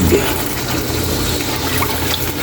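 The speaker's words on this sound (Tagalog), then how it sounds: "Ilagay ang tubig." Water poured into a cooking pot while making tilapia pochero, a steady broadband splashing and filling sound that runs evenly and fairly close throughout.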